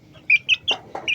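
A gamecock rooster with an eye ailment and cancer gives a series of short, clear clucking calls, about five bursts in quick succession, close and alone over a faint background.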